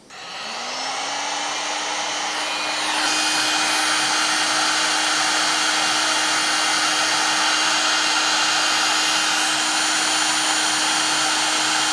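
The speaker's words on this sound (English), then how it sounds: "Heat gun again." A heat gun blows hot air onto a solder connector, starting up and settling into a loud, steady whooshing roar with a constant motor whine that holds unchanged for about twelve seconds.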